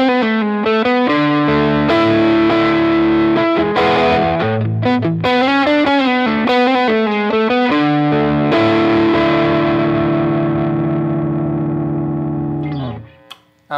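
A Squier Paranormal Offset Telecaster electric guitar played through the neck pickup, warm and sustained with chorus-like shimmer, ringing chords and melodic lines before fading out.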